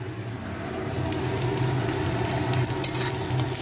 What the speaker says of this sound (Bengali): ডিমের ঝোলের জন্য পেঁয়াজ ভাজা হচ্ছে।